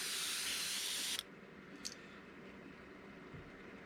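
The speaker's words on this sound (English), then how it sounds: "I just want to get some of that overspray on there" Spray gun hissing paint overspray onto a Psycho Clown fishing perch, a loud steady burst for just over a second that cuts off sharply, followed by faint background noise and a small click.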